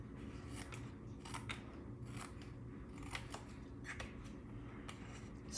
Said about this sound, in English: grab your scissors and you're just going to snip